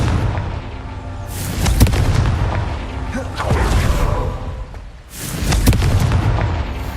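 In the video game Hogwarts Legacy, Confringo explosive spell blasts go off as loud booming bursts, two strong hits a few seconds apart over rumbling game noise, with a voice speaking briefly.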